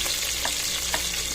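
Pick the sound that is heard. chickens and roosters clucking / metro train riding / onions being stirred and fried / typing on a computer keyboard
onions being stirred and fried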